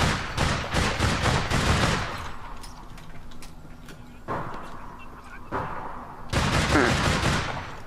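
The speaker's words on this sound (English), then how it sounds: "So someone just shot me in the back." Gunfire rattles through the online shooter game APB Reloaded: loud rapid bursts up front, then scattered distant shots, with more heavy bursts returning near the end.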